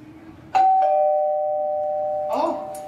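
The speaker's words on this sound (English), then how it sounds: "Oh, the door is chiming." Doorbell in a stage performance of the play Drop Dead, a two-note ding-dong chime ringing out close and sustained, with a voice speaking briefly at the end.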